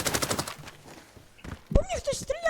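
Rapid automatic gunfire from the video game Arena Breakout, a dense burst of shots in the first half followed by scattered reports, with voices talking over the later part.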